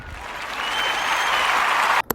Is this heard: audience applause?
yes